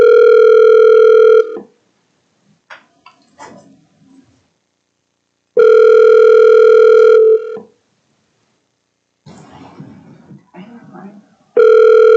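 A telephone line in a meeting room sounds as a calling tone: steady buzzing tones of about a second and a half, repeating roughly every four seconds. Faint room shuffling and murmurs fill the gaps between them.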